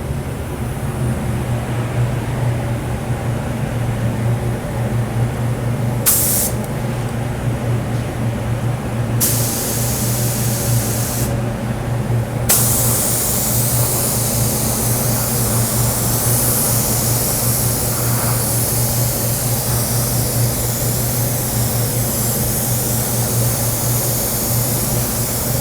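A spray gun lays ceramic coating inside a bowl with a loud, steady hiss close by. The hiss runs nearly unbroken, with a few short changes near the start, and no one speaks.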